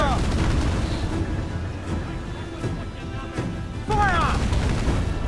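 Ship cannons firing broadside in Assassin's Creed IV: Black Flag, heavy booms rolling out amid sea battle noise, with shouted voices and a dense rumbling background.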